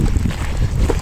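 Strong, cold wind blows outdoors on a clear day in Switzerland, a continuous loud rumbling buffet against the microphone with no voices.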